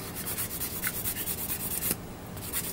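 Plastic part of a 1/144 HG GM Striker Custom Gundam model being sanded by hand, soft rhythmic back-and-forth rubbing strokes up close with a brief tap midway.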